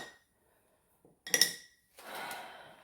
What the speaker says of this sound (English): Clean off our spatula.